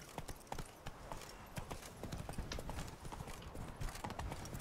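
Horse hooves clip-clop in The Witcher 3 video game, a quick steady rhythm of light, close hoofbeats at a low level, continuing without pause.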